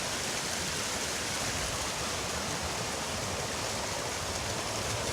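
A mountain stream just below a shelter on the Appalachian Trail rushes over rocks into a small deep pool, a loud, continuous hiss of running water, close and steady with no voices.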